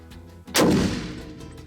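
A single loud gunshot from a javelina hunt in Texas rings out close by, with a sharp crack followed by a long, decaying echo across open country; no voices.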